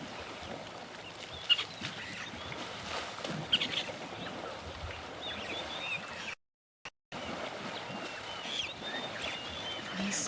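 Elephants splash and bathe in a waterhole at Ngala Private Game Reserve in the heat. The sloshing water noise is continuous and fairly close, with a few sharper splashes and a brief gap of silence partway through.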